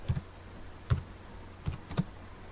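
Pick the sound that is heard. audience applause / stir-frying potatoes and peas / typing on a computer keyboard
typing on a computer keyboard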